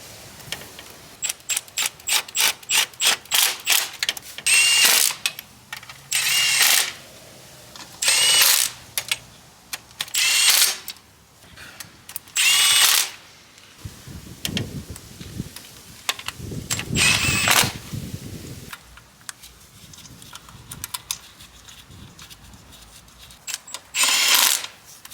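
Power tool bursts, likely an impact driver or drill, tightening bracket bolts on a Z during spark plug replacement; a quick run of short rapid pulses gives way to longer separated whirring bursts, close and fairly loud, with no talk.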